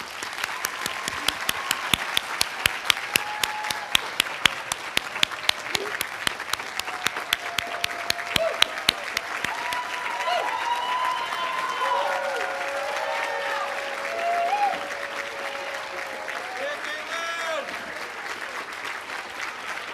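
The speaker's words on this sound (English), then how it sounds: "Let's give them all a big round of applause." A large audience at a nursing pinning ceremony applauds graduates in a long, roaring ovation, with sharp individual claps early and voices and whoops mixed in as the clapping continues.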